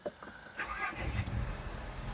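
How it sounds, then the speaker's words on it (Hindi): A 2022 Mahindra Scorpio N engine starting at night: a brief starter whir, then the engine catches and settles into a low, steady idle rumble, close and alone. "तो गाड़ी स्टार्ट करते हैं।"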